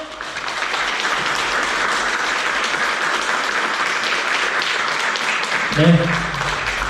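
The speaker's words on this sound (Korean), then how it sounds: "박수 한번 크게 보내주세요" Broad, steady applause from a wedding audience greeting the bride and groom at a ceremony in Busan, loud and continuous throughout, with a brief voice near the end.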